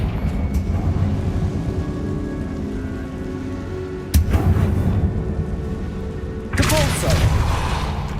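Two heavy blasts from the Confringo spell in the Hogwarts Legacy video game burst sharply out of a steady, rain-like ambient hiss, the second one longer and rumbling.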